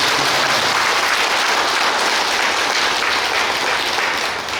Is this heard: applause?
yes